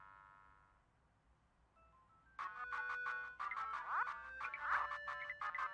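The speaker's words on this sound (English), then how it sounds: "pick up the phone, bro" A phone ringtone in the video game Goodbye World plays after a short quiet stretch, a bright repeating electronic melody of tones that goes on steadily to the end at moderate loudness, with no talk over it.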